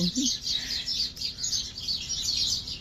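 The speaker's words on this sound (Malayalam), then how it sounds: "ഒത്തിരി കിളികളുണ്ട് ഇവിടെ കേട്ടോ" Birds chirp in quick, repeated high tweets outdoors, a steady chorus at moderate distance over a low background hum.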